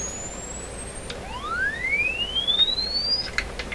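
Test tone from the speaker of an Airline tabletop radio: a steady high whistle that breaks off, then a clean sine tone sweeping upward over a couple of seconds against a faint hiss, fairly quiet.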